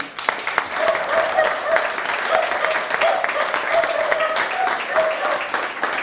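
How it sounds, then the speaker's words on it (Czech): Audience at a New Year's Eve variety show in Czech bursts into sustained, dense applause that fills the room at a steady level throughout, with some speech mixed into the clapping. "takže tuto chvíli jeden velký potlesk"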